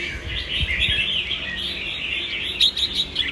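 A small songbird chirps rapidly in bright, high twittering phrases, close and clear, with a few sharper calls near the end.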